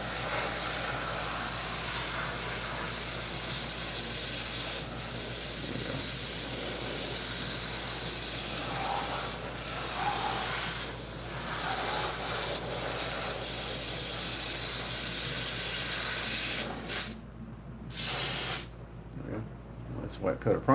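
An airbrush sprays white primer onto prints in a steady, close, continuous hiss that runs for many seconds before cutting off in short bursts near the end.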